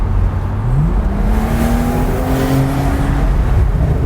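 A 2020 Porsche 911 Carrera S Cabriolet in sport mode pulls hard from inside the open-top cabin, its engine note climbing through the revs with a loud, continuous rising growl and strong road noise.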